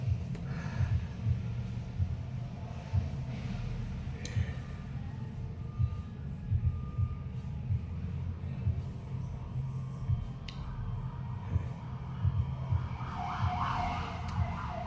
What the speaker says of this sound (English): Y'all heard the sirens going off out there?